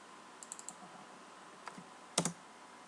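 A computer keyboard clicks while Java code is typed, giving a few light, sparse keystrokes followed by a sharper double clack, quiet and close.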